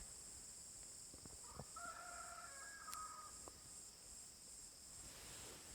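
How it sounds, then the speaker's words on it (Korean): A distant rooster crows once, faint and drawn out, over a steady chorus of crickets and insects, with no voices. "저 달구 새끼는 참 희한한 달구 새끼야. 여기서 법문만 하면 꼭 깨어하고 운다."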